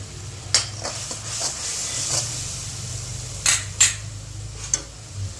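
Kokum dal being stirred in a pot with a few soft scraping and clinking strokes at close range, a quiet low hum underneath and no talking.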